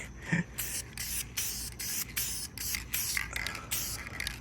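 Aerosol spray paint hissing onto a Honda in bursts of about half a second, separated by short pauses, close and steady with no talking.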